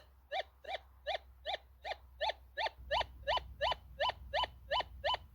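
Repeated electronic warbling beeps from a GM1000 metal detector over a lead target, about fourteen evenly spaced pulses in a steady rhythm, clear and fairly loud over a low background hum.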